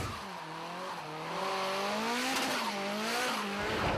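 Customized race cars competing at the limit just centimetres apart, with engines revving and rising, wavering tire squeal that swells and falls across the few seconds, fairly close and with no talking.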